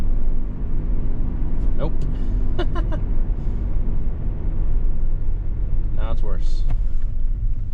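A second-generation Toyota 4Runner on the road during a test drive after a pitman arm was retorqued, with a steady, loud engine and road rumble throughout while a person speaks briefly over it.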